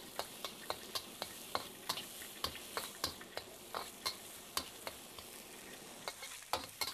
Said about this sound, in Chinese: 半杯的洋葱末，给它在这里呢炒软炒香